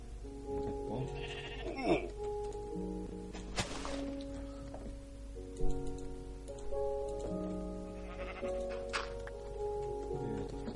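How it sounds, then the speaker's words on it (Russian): Sheep in Minecraft bleating several times at irregular intervals, soft and moderately near, over rainfall and a steady game ambience with low music tones. "Привет, овца."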